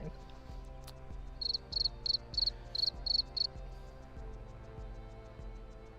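Crickets chirp in a short run of about eight rapid, evenly spaced bursts, clear and fairly loud over a low rhythmic background hum, then stop.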